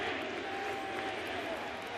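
Yankees wild card playoff crowd in the Bronx against the Astros, a steady broad roar of thousands of fans filling the stadium, continuous and moderately loud throughout.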